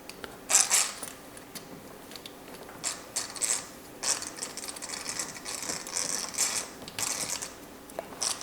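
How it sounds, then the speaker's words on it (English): Gears in a rebuilt outboard motor gearcase are turned by hand, giving a close series of dry ratcheting clicks and whirring bursts that start and stop irregularly. "So I can hear the gears."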